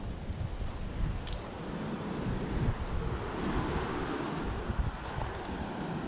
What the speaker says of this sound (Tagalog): Malabo, malakas, mataas ang alon.